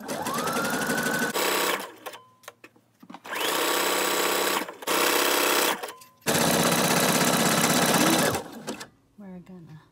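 A sewing machine stitches a shirt extender in several bursts of rapid, loud mechanical whirring, each lasting a second or two, with short pauses and brief handling noises between them.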